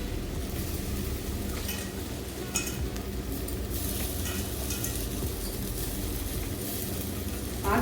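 Drumstick leaves sautéing in a pan give a low, even sizzle with scattered clinks and scrapes of a utensil, moderately close and steady, with no talk.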